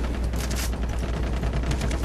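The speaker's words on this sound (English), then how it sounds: "Keep shooting them." Rapid gunfire in Far Cry 3, a dense burst of close, loud shots rattling continuously with overlapping reports.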